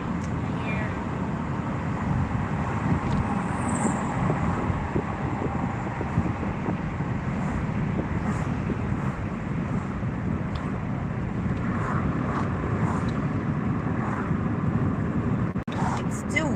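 Wind buffets a moving car through an open window, a constant low roaring rush with road rumble underneath, while people talk over it.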